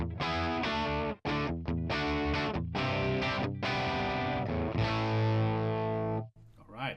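An electric guitar plays dry through a Tonex One boutique amp model, producing a crunchy, distorted riff of sustained chords with brief choked gaps and a final ringing chord cut off near the end.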